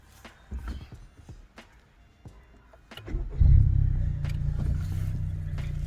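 A 10th gen Honda Civic engine cranks and starts about halfway through, settling into a loud steady idle after a few earlier clicks and knocks inside the car.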